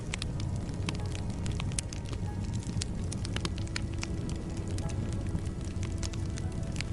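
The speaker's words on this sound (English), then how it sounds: "The fire crackles softly, and we rest beneath the stars" A campfire crackles softly under a starry night sky, with dense small pops and snaps over a low steady hiss, fairly quiet and alone.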